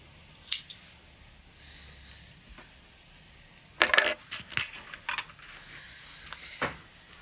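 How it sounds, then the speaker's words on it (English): Scissors snip through the tail of knitting yarn in a few sharp, close cuts. A quiet pause comes first, then a burst of quick snips and a couple of later clicks, with no talking. "I'm going to cut it at about 30 centimetres,"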